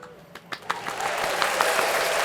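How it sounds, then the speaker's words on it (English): A few slow, spaced claps come first, then build into steadier, denser clapping that keeps going at a moderate level, as people applaud a right answer in a quiz at the state fair. "Golf clap."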